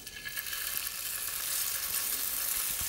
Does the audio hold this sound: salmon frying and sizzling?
yes